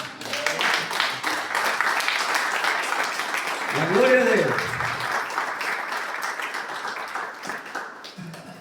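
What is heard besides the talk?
congregation applause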